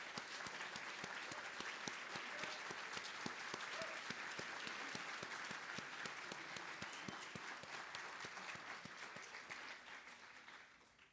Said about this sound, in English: because we want to applaud you.